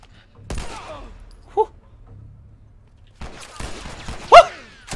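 Gunfire in The Last of Us Part II during a combat firefight, with scattered sharp shots and a louder burst near the end, set against quiet background and faint scuffles.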